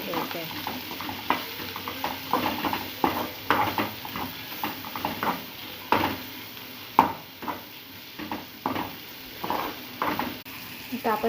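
Takla leaves sautéed with onion and chutney in a pan, with a steady sizzle of frying under repeated scraping and stirring strokes of a spatula against the metal, loud and close.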